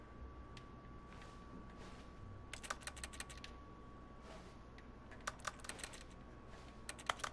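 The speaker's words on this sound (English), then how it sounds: "Why does it sound like you typing out?" A computer keyboard clatters in quick bursts of typing, with pauses between short runs of keystrokes over a faint steady hum, close and fairly quiet.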